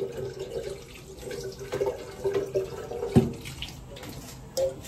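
Water running from a tap into a sink, a steady splashing flow with occasional clinks and knocks nearby.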